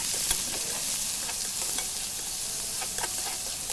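Onions fry in oil with turmeric and salt over a wood-fired stove, a loud, steady, close-up sizzle with scattered crackles and stirring scrapes throughout.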